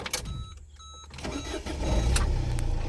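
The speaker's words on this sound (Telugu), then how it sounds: "ఇంజన్ మంచి స్మూత్ అండ్ పవర్ఫుల్ ఉంది" A 2014 Ford Figo 1.4 TDCi diesel car engine runs close by with a low, steady rumble, broken early on by a few sharp clicks before the drone thickens and settles.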